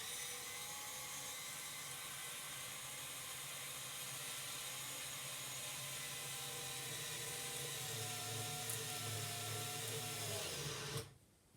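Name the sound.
cordless screwdriver drilling in drill mode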